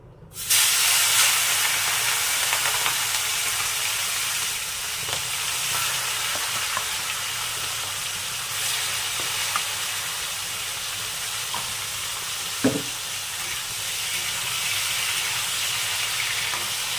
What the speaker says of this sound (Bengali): তেল গরম হয়ে গেছে এবার চিংড়ি মাছগুলো ভেজে নেবো